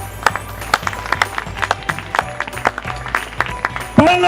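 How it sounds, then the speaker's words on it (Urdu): A Christmas sermon audience claps loudly for the alliance chairman in a dense burst of fairly close, uneven hand claps, and the applause ends in a brief tonal sound at the close. "زوردار تالیاں"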